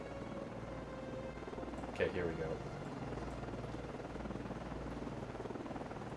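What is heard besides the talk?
helicopters in a naval video game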